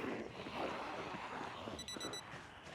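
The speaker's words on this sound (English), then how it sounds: "And now my alarm's going off." An alarm goes off in Project Zomboid, short repeated electronic beeps in a quick rhythm entering late over a low windy ambience.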